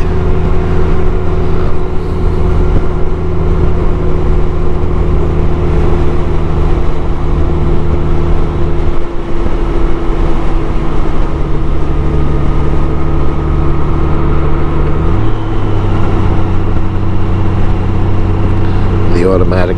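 A 2018 Honda GoldWing touring motorcycle with automatic transmission rides along as a steady, loud engine and road drone that continues throughout, with a voice talking over it.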